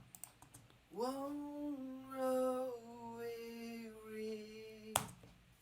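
A sung vocal line with a subtle shimmering, doubled quality, quiet and alone, ending with a sharp click.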